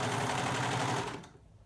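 A serger sewing machine runs steadily for about a second, feeding the main fabric of a swing dress through, then cuts off abruptly, leaving a faint quiet tail.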